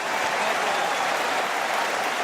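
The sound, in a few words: crowd applauding Roger Federer at Roland Garros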